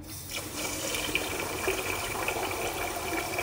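Water pours steadily into a container of rice in Japan, a continuous close splashing gush with no talking.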